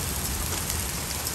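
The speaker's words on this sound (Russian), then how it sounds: "Я вообще не могу поверить, что у нас град идет." Hail falls steadily outdoors as a dense, continuous hiss and patter of ice pellets on surfaces, even and fairly loud throughout with no voices.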